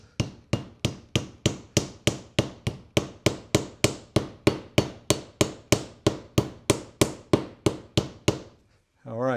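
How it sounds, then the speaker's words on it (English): Regular, evenly spaced thuds of a rubber mallet striking the wooden handle of a Sears camping axe, about two dozen blows in a steady rhythm, close by, ending with a brief pause. "Now I got just a little rubber mallet here, a little hammer"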